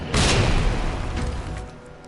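Grenade blast in Resident Evil as Leon, a single loud boom with a rumbling crash that decays over about two seconds, no voices.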